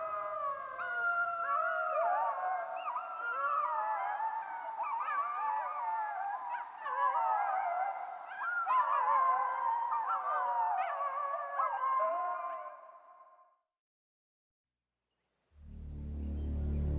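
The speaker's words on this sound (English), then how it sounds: "It is the wolf that makes Algonquin Park wild." A wolf in Algonquin Park howls in long, wavering, overlapping calls that rise and fall for about twelve seconds, clear against a quiet night, then silence and a low rumble.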